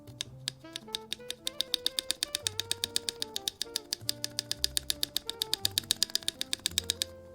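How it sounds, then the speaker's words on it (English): Custom luxury mechanical keyboard being typed on, a fast steady run of crisp, deep clacks from the switches with no wire rattle, close and loud with no talking. "you just hear the pure switch noise."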